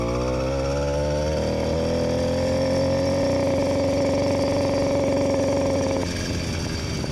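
A Yamaha YD100 motorcycle engine fitted with a Phantom 85 exhaust revs hard and close, its loud buzzing note climbing and holding high for several seconds before dropping back near the end.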